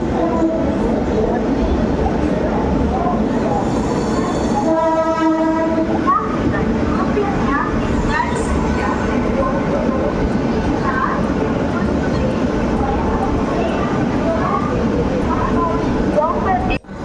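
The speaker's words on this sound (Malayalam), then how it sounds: "ഏകദേശം കോയമ്പത്തൂർ സ്റ്റേഷനിലേക്ക് എത്താറായിട്ടാ അങ്ങനെ നമ്മൾ കോയമ്പത്തൂർ എത്തിയിരിക്കുകയാണ്" A train pulls into Coimbatore station with a steady rumble of wheels and carriages throughout, and a horn sounds partway through; background voices are heard under the rolling noise.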